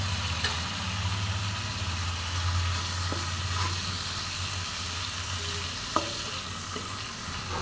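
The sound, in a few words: ground spices frying and being stirred in a pan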